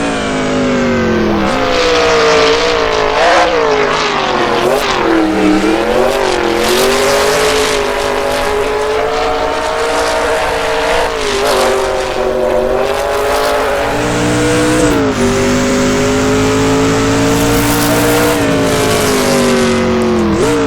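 Deep, raspy engine of a 1960s sportscar racing on a track in Assetto Corsa, revving continuously and loudly up and down through the gears with rising and falling pitch, close and alone for the whole stretch.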